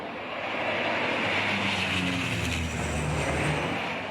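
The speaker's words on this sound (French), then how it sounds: "Les avions se suivent de très près et enchaînent les largages à 30 secondes d'intervalle" A Canadair CL-415 water bomber aircraft flies past during firefighting drops, its engines droning loudly in a steady roar that swells and holds as it passes near.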